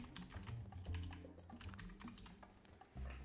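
A computer keyboard is typed on in quick, faint clicking bursts, close but quiet, over a soft background hum.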